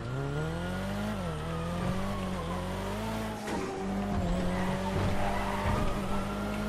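Engine drones steadily in a driving video game, its pitch rising and falling as the car turns, with tires squealing and skidding through much of the run and a brief dip midway.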